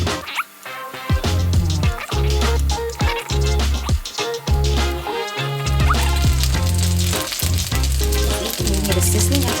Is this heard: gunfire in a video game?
no